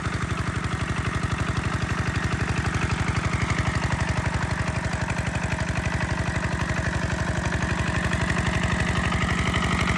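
An original Emi 8.5 model 185 engine runs steadily, driving a 4-inch irrigation pump on a bored well in a farm field, its rapid even firing chugging loud and close for the whole stretch with no voices.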